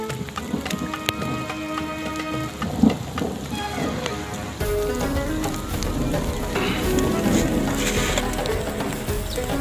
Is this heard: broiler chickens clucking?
no